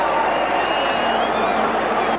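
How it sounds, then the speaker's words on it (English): Stadium crowd at a rugby league grand final at Lang Park, a broad steady roar of many voices filling the air, with a commentator talking over it. "Pretty good crowd out here at Lang Park for this match today"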